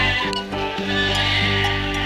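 A cartoon sheep bleats loudly and close in a wavering, drawn-out cry, with shorter bleats overlapping through the stretch.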